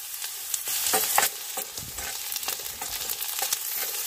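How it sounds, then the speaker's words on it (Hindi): Onion, capsicum and green chilli fry in a pan at a forest campsite, making a steady hiss with scraping, clicking stirring strokes scattered over it, close and moderately loud. "प्याज और शिमला मिर्च हाफ फ्राई हो चुके हैं, तो अब मैं इसमें डाल दूंगा"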